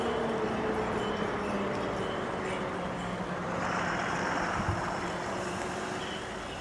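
A state transport night bus from Malvan to Akkalkot idling and pulling in at the Malvan bus stand, a steady low engine drone with faint tonal whine amid the open-air bustle of the station.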